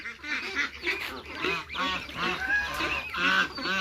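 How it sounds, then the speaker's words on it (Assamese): Geese honking on a piggery farm that also keeps ducks and chickens, a rapid overlapping chorus of loud nasal honks close by, continuous throughout. "বিপুল দা, এইবোৰ ৰাজহাঁহো আছে আপোনাৰ?"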